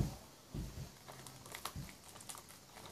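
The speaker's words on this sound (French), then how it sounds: "j'ouvre toujours les DVD devant vous" Crinkling plastic wrap being torn off a new DVD case, with soft crackles and a few dull handling thumps, quiet and close with no talking.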